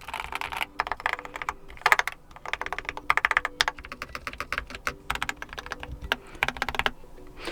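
Steady, fairly fast typing on a Keychron K4 HE keyboard, crisp close key clicks in bursts with short pauses, no talk.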